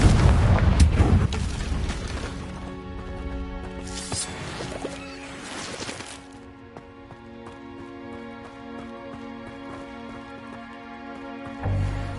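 A Confringo fire spell explodes in Hogwarts Legacy, a booming blast with crackling debris, followed by a softer second burst and a lingering tonal hum that fades.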